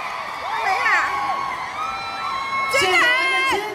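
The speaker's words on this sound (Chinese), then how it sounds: "现场的尖叫声" A concert crowd at a pop music event screams and whoops in high, wavering bursts, swelling twice, with a voice over the noise.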